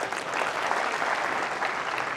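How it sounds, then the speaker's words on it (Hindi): Loud, dense audience applause at a seminar on intraday trading, a steady sustained wash of many hands clapping with no break and no voices over it. "क्या एक बार जोरदार तालियां होनी चाहिए ना?"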